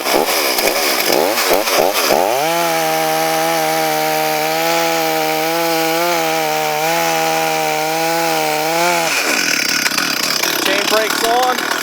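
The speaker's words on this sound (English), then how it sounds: "I already have a kerf made, so I'm just going to cut it the full way" A chainsaw revs up in short bursts, then bites through a log in a loud, steady cut at high engine pitch that ends abruptly as the chain breaks free. The engine then drops back to idle.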